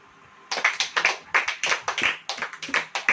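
A church congregation claps together in a quick, steady rhythm, a run of sharp, loud hand claps that starts after a brief quiet moment and continues without talk.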